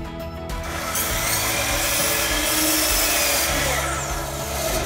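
A saw cuts through a stone veneer panel up close, a loud continuous rasping grind that holds steady for several seconds with no talking.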